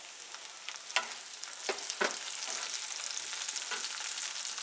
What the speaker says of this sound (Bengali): পেঁয়াজটাকে একটু ব্রাউন করে ভেজে নিচ্ছি